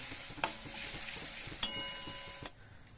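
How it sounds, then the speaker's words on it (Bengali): A spice mix with Kashmiri chili powder is stirred and fried in a pan for a vegetarian stuffed papad dish. A soft, quiet sizzle runs under three light spatula clinks, then dies away near the end. "এবার নেড়ে চেড়ে মশলাটাকে ভালো করে একটু ভেজে নেব"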